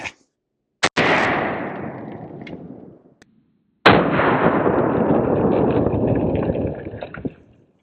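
Two loud rifle shots strike a Battle Steel Level III lightweight steel armor plate outdoors, each a sharp crack followed by a long, rumbling echo that slowly fades.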